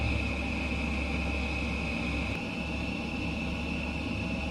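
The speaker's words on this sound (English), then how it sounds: "Let's open the throttle, get her rolling." An F-15EX jet in Microsoft Flight Simulator 2020 throttles up for its takeoff roll, with a steady, loud engine roar and a high whine holding constant throughout, with no talk over it.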